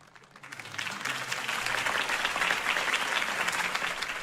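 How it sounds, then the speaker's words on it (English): Crowd applause after a campaign speech in Batman: The Telltale Series, a dense wash of clapping that swells quickly and holds steady and loud to the end. "could have heard that applause"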